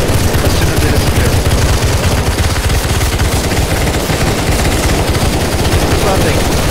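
Continuous automatic gunfire in the CS:GO zombie escape mode, dense rapid bursts from several weapons overlapping, loud and close throughout with a busy game soundscape.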